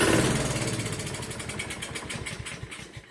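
A Honda lawn mower engine running on starting fluid sprayed into the carburetor, putting out a steady, rapid chugging rhythm from close by that gradually loses strength.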